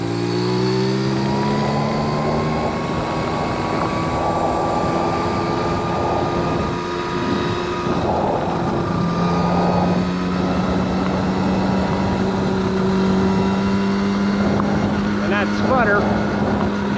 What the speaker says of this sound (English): Sputter, it comes and goes, and you don't even have to be wide open throttle.